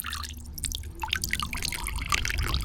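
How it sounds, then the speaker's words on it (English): Water drips and trickles from ITEHIL water filter pipes, a close sequence of small irregular splashes over a low steady background. "now you can see there's water coming out of both pipes"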